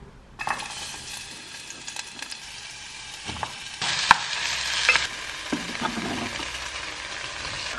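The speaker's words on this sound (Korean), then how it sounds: "샐러리도 처음에 같이 볶아줄 거예요." Celery sizzling in olive oil in a pot on a gas stove, a steady frying hiss with stirring scrapes and a few metallic clinks from the pot, close by with no talking.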